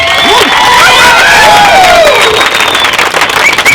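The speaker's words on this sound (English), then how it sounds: "Let's get a round of applause, please, for the bride and groom" A wedding reception crowd applauds and cheers for the bride and groom after a toast, loud, close clapping mixed with whoops and shouts that holds steady and fills the whole moment.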